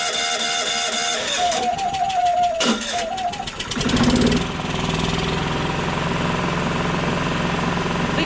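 A Yamaha EF4500iSE inverter generator with a no-start fault cranks over with a loud, rough, rapid chugging, a rising whine, then settles into a steady close mechanical drone.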